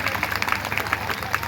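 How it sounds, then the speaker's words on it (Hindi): Audience applause at a Hindi poetry gathering on an open ground, a brief burst of crowd clapping, dense and steady, with faint voices underneath. "मैं चाहूंगा अगर आप उसका अनुमोदन करते हैं तो एक बार जोरदार तालियां प्रीति के सम्मान में करें।"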